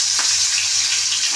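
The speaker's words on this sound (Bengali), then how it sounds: "দেখো বোয়াল মাছ, ফাটাফাটি শুরু হয়ে যাচ্ছে" Boal fish frying in a pan, a dense, continuous sizzle with sharp spluttering pops, loud and close, with no voices.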